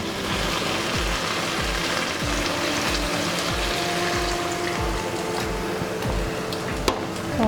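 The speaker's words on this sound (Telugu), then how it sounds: "ఇప్పుడు మనం వాటర్ వేసుకుందాం." Water poured into a pan of sand fish curry, a steady liquid rush with gurgling and bubbling over a faint rhythmic mechanical ticking, continuous and fairly close, with no talk.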